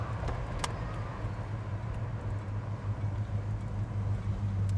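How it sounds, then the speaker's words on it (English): A 1985 Chevy Monte Carlo G-body's engine runs at a steady, low idle, a soft, constant rumble with a faint background hiss and no voices over it. "The sound of the engine on this thing"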